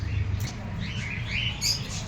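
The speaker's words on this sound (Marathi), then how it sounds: "या पक्ष्यांचं नाव आहे डायमंड डव" Small diamond doves give soft, faint chirping calls in scattered bursts over a low background hum, with occasional brief high notes.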